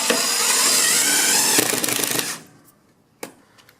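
A power drill drives screws into a fireplace bracket for an electric fireplace, whirring loudly and steadily for about two seconds before stopping, followed by a faint click.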